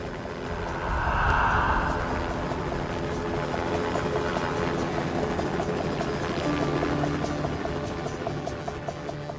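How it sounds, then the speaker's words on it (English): A helicopter comes in over a volcano in zero visibility, a steady low rotor rumble that swells around the second mark and then holds as a continuous drone with no talk. "Helicopter comes in"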